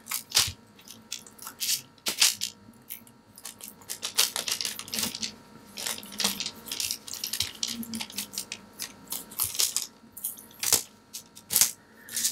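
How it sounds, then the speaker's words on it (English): A cured resin coaster is peeled from its mold, giving a series of close, sharp crackling and clicking snaps in irregular bursts over a quiet background. "This has cured. I'm going to peel it right off."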